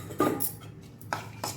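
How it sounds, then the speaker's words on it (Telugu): Boiled moong beans tipped into a pan, giving a few short scraping, clattering bursts of metal on cookware, with quiet gaps between them. "ఇప్పుడు ఈ ఉడికి పెట్టిన పెసలన్నీ వేసేసుకుందాం దీంట్లో"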